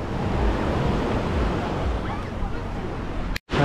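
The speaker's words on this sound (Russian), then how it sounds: "И вот такая волна здесь." Sea waves wash steadily onto a beach at Alushta in Crimea, a loud continuous surge mixed with wind buffeting the microphone, cut off by a brief dropout near the end.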